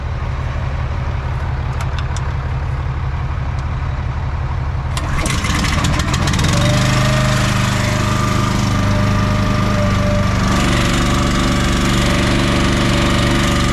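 An auger's engine runs loudly and close at a steady chug, then a clattering burst comes in and the motor rises into a harsher, busier roar that continues to the end.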